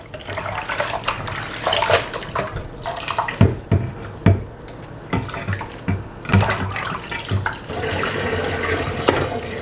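Salted, wilted bok choy is rinsed under a running tap: a steady rush of water with uneven splashes and knocks as the leaves are handled, loud and close, with no speech.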